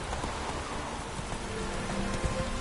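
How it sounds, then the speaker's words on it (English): Steady rain falls in the Witcher 3 video game, a continuous patter of drops on surfaces with no talking and a faint low rumble underneath. "Rain"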